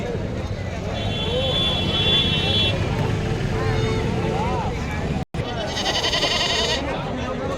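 At the Washim goat market in Maharashtra, local country goats bleat repeatedly amid a busy crowd, their calls mixed with steady chatter and bargaining voices close by.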